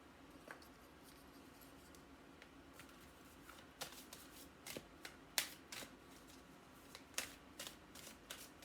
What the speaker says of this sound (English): Actually, we'll take one of these cards.